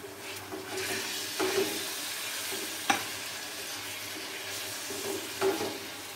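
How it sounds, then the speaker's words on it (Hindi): Minced meat (keema) fries with onions in a pan under a continuous sizzle, with occasional spoon scrapes and a single sharp clink near the middle. "अच्छी तरह फ्राई करेंगे जब तक इसका कलर बिल्कुल चेंज ना हो जाए"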